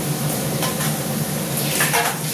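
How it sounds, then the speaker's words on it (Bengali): Chicken pieces going into a pan of browning onions, a continuous close sizzle with spoon-and-pan scraping and light clinks throughout. "এর মধ্যে আমি চিকেনগুলো দিয়ে দেবো"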